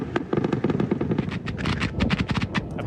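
Rapid bursts of machine-gun fire from the air crackle in quick succession, sharp and fairly close, as a patch of land in Gaza is strafed, with no voices.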